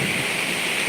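Heavy rain falls steadily, a loud, dense, even hiss with no break, heard alone with no talking.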